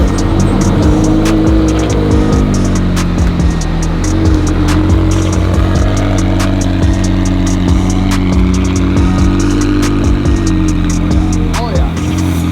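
McLaren 720S lowered on Novitec springs, pulling away: a loud, steady engine drone heard up close, with faint voices in the background.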